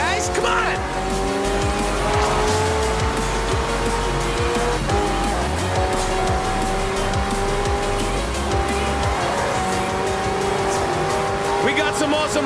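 Racing cars and hypercars in the Forza Horizon 4 video game, engines roaring with repeated tire squeals and skids throughout, loud and continuous, with a voice talking over the action.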